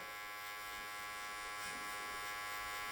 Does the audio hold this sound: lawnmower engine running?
no